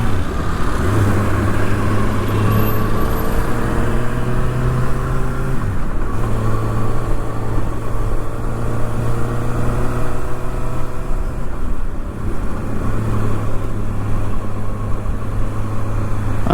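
A 2024 Kawasaki ZX6R motorcycle engine droning loud and steady while riding, with several rising and falling rev sweeps as the bike shifts through gears.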